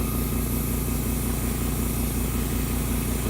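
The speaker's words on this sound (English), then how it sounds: "Turn the compressor on." An air compressor for airbrush painting runs with a steady, even motor hum and rapid pulsing chug, constant in level and close by, with no voices.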